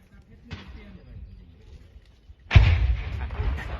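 Gunfire across the Moei river near Mae Sot, Thailand: a faint sharp report early, then a loud booming shot or blast with a rumbling tail, while radio-style voices talk throughout.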